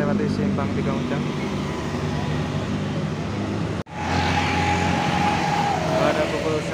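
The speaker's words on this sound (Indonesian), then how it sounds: "Bus AKAP Handoyo melewati simpang 3 Ujang." A Handoyo intercity (AKAP) bus drives through a three-way roadside junction with loud, steady engine and traffic rumble. A brief dropout partway through is followed by a tonal whine as the vehicle moves past.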